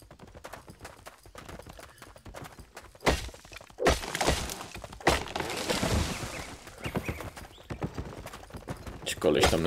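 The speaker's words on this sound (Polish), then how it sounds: "Ci koleś tam na jakiejś krowie jeździ." Hooves of a cow-like mount ridden in Albion Online, with steady clip-clop footfalls and occasional louder thuds, heard under a person talking.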